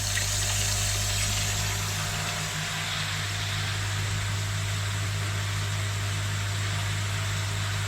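Water tops up a koi pond upflow filter, a constant close rushing hiss over a low steady hum, unbroken from start to finish.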